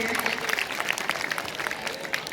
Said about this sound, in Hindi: बेशक तालियां बजाइए आप